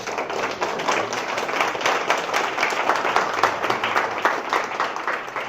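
Steady applause from a lunchtime audience for the Antioch mayor, a dense wash of many hands clapping at moderate distance, holding evenly without a break.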